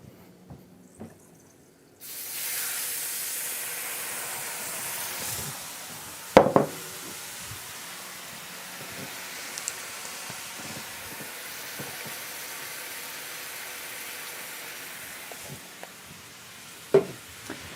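Chicken broth and lemon juice poured into a hot pan with noodles, hissing and sizzling steadily, with a few sharp clanks of utensils against the pan.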